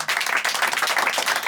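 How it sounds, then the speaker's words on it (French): An audience at a slam poetry stage night breaks into loud, dense applause, steady clapping filling the room from start to finish with no one speaking over it. "Applaudissez Noël, s'il vous plaît."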